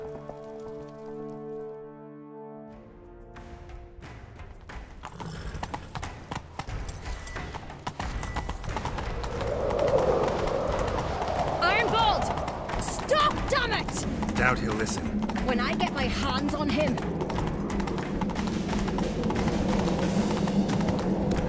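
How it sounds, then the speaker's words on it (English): Horses galloping in a chase in The Witcher 3 video game, a steady drumming of hoofbeats that builds after a quiet musical opening, mixed with rushing movement and brief talk. "Grab a horse, we'll chase him down."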